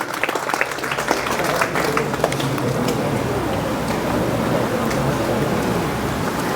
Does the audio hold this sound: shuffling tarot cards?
no